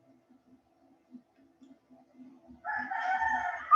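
A single rooster crow rises after a few faint scattered clicks, fairly distant and soft, and sounds alone with no talking.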